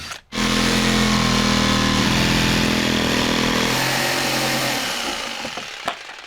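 A power drill boring a hole for a jigsaw blade, whining loud and steady for several seconds before winding down, with a sharp knock near the end.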